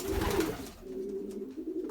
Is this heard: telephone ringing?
no